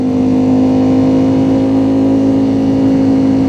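A small motorcycle engine hums steadily and loudly at an even pitch while riding along an open road, with constant wind and road noise and no talking.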